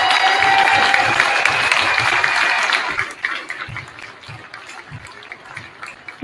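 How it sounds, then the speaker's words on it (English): Loud, dense clapping from a large audience at a high school varsity game for about three seconds, then fading to scattered claps and crowd murmur. "One more round of applause for Smoky Valley students"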